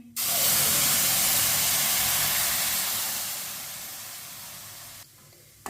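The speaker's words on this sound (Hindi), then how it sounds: "दूध डाल लेंगे। ये 1 किलो दूध दिया मैंने।" Milk poured into roasted vermicelli in a hot pan, a loud continuous hissing rush that eases off gradually over several seconds and then stops with a brief clatter.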